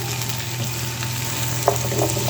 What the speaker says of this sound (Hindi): अच्छी गोल्डन हमने प्याज को ब्राउन करना है